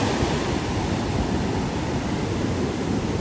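Steady broadband roar of ocean waves at a Florida beach where surfers ride unusually big swells, continuous and wind-tinged, with no voices.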